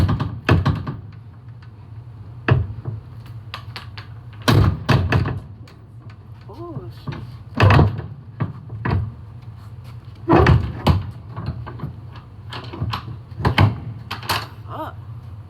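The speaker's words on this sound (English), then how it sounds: "Yeah, sometimes you can have a hard time with these doors." Heavy rusted doors on a truck trailer are forced open, producing a series of loud metallic thunks, bangs and scraping creaks spread across the clip, with someone talking and cursing between the impacts.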